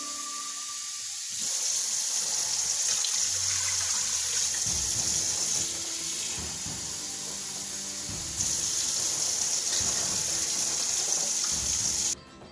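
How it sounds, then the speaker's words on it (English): Tap water gushing steadily into a cooking pot for a vegan corned beef dinner, a bright rushing flow that starts, briefly eases, then surges again before cutting off near the end. "The first step is to put the water. You're going to need 5 cups of water"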